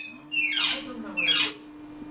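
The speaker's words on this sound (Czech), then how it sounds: "Ty jsi papoušek." A pet alexandr rudohlavý parrot lets out two sharp, shrill squawks about a second apart, each loud and close, with near silence between and after them.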